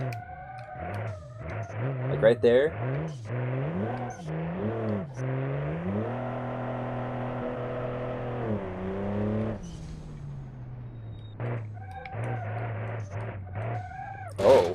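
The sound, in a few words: car engine dying at 2000 RPM in the video game BeamNG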